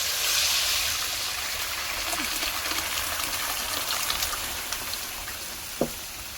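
Boiled mung beans and their liquid pour into a cooking pot with a steady wet, gushing rush and a faint clink near the end, without any talking.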